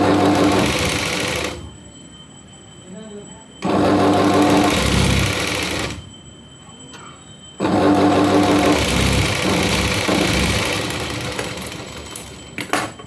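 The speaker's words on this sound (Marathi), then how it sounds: "याच्यावर शिलाई करायची ह्याच्यावर शिंगल शिलाई मारायची आणि पाव शिलाई" A sewing machine stitches a yoke strip onto a blouse in three loud, steady bursts of rapid whirring, separated by short quiet pauses, heard up close with no talking.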